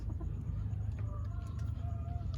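Egg-laying hens cluck softly in the background over a steady low hum, with a few faint drawn-out calls rising and falling.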